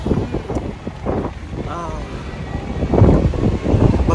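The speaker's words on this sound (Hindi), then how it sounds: "कितनी ठंडी हवा चल रही है" Cold wind blows outdoors, buffeting the microphone in uneven, rumbling gusts while people talk over it.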